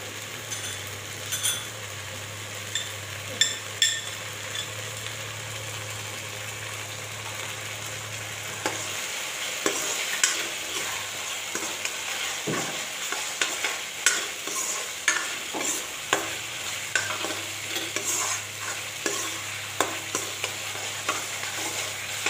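Poppy seed paste for fish stirred and fried in a pan: a steady sizzle with repeated scraping clinks of the spoon, sometimes sharp and close, with no talking.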